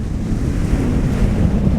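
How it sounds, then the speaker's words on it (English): Ocean surf rolls onto the Kenyan coast in a loud continuous wash, with heavy wind buffeting the microphone and no voices. "look at the ocean, the waves"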